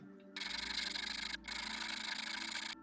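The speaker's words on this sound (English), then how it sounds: "I will continue with the file making this thinner" Hand file working steadily on a small piece to thin it, producing a continuous close rasping stroke with one brief pause partway through; no talking.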